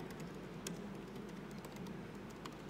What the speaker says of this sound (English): if I can actually type.